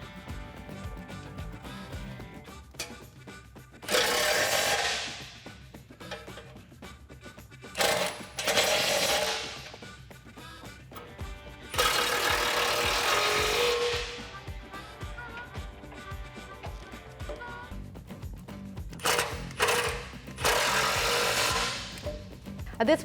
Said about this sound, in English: grab your 18mm socket and let's tighten down the bolts on the outside